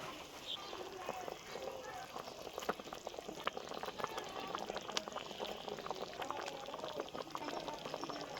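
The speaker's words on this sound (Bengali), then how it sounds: "ফুটে গেছে ঝোলটা" Rohu fish curry gravy with mustard simmering in a pan, giving a continuous close bubbling and hissing boil that runs steadily throughout.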